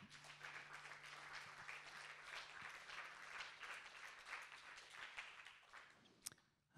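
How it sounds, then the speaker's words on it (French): An audience in a media library applauds after a musical reading, steady soft clapping from many hands throughout, faint and somewhat distant. "On peut applaudir aussi Aurélien qui a fait le son et les lumières."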